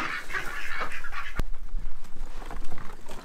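Ducks on a homestead pond in winter, with bird calls scattered over a steady outdoor background and a sharp brief knock near the middle.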